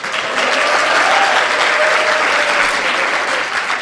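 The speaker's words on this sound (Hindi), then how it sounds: "तालियां बजा दीजिएगा आप।" A crowd at a comedy poetry recital breaks into loud, sustained applause lasting a few seconds, dense and even from start to finish.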